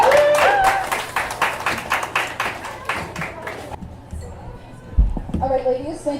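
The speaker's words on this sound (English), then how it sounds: "Give them a big round of applause, please." An audience applauds a panel of speakers with brisk, dense clapping that thins out after a few seconds, then gives way to voices, a microphone thump and chatter near the end.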